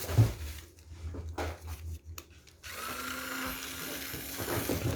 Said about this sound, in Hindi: ₹1990 की रिचार्जेबल ड्रिल मिल जाएगी जिसको चाहिए।